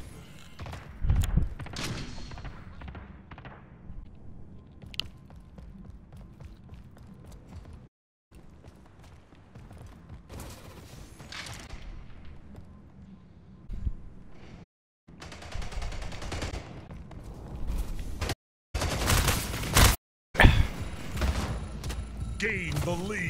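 Rocket launcher blasts and SMG bursts ring out in the video game Splitgate, loud booming hits and rapid fire in clusters spread across a busy match, with brief silent gaps, under a player talking.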